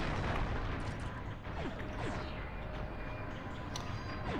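Torpedoes striking ships in the space combat game S.P.A.Z.: a rapid run of sharp impact bursts and crashing booms with descending whistles, quiet but dense and continuous, with no talking.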